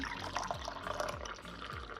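Water poured into a glass tumbler for drinking in a home kitchen, a soft continuous trickle with gurgling bubbles and a rising fill, close and quiet, with no talk.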